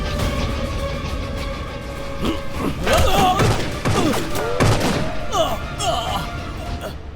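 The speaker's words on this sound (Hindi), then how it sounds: "गोली चलने की आवाज थी।" A gunshot goes off inside a train in the Hindi-dubbed action movie Khooni Train: a sharp, heavy bang over the rumble of the carriage, with thuds and people talking around it.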